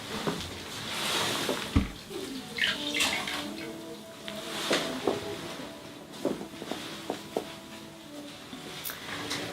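Water runs and splashes as salicylic cleanser is rinsed from skin, with soft trickles, a sharp knock and intermittent small clatters, all fairly faint.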